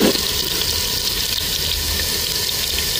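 Onions frying in a pan for Mangalorean kori rotti, a loud, steady, hissing sizzle that runs without a break for the whole stretch, close by and with no talking.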